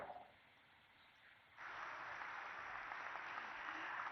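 Audience applause follows a speech at the grand opening of a Safran aircraft engine facility, a faint, distant wash of clapping that swells and thickens about halfway through and continues steadily.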